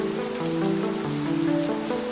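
Steady rain falling on a surface, a continuous dense patter at moderate level, with a soft low tonal hum running underneath.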